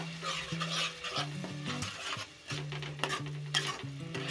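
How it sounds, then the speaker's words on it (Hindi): Spices for chana masala sizzle and fry in a pan while being stirred, with steady scraping strokes and a continuous close crackle throughout, no voices. "अब इन मसालों को हम अच्छे से भून लेते हैं।"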